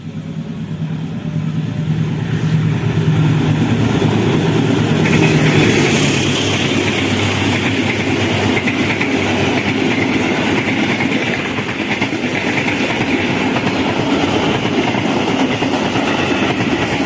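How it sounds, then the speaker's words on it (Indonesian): Ranggajati express train hauled by locomotive 2061368 of the Cirebon depot, bound for Jember, rushing past at speed: a loud, steady roar of wheels and rolling stock close by, sustained throughout. "Kereta api Ranggajati dengan lokomotif 2061368 Depo Duk Cirebon menuju arah Jember ya teman-teman,"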